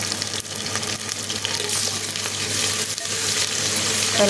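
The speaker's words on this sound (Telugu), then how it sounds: "అల్లం తాలింపు పెడతాను." Ginger tempering spits and crackles in hot oil alongside frying onions, a close, steady sizzle that swells slightly toward the end, with no talking.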